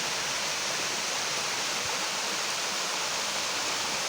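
Choorakkode waterfall near Pattambi, a dense, steady roar of rushing water, close and continuous without any break, with no voices over it.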